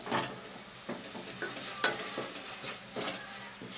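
Coriander leaves being stirred into onion rice frying in a pan, a soft steady sizzle under repeated scraping stir strokes, close and fairly quiet, with no talking.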